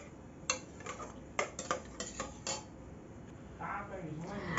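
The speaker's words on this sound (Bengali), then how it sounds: "একটু নেড়ে চেড়ে নেব।" A spoon scrapes and clinks against a pot of mixed lentil dal while it is stirred, several sharp metallic taps and scrapes spaced irregularly, fairly quiet, ending in a softer rustling stir.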